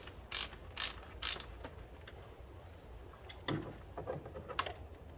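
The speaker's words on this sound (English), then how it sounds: "we're popping off our oil filter" An oil filter being unscrewed and pulled off a car, with close, quiet clicking and ratcheting metallic taps in several short bursts, then handling clatter.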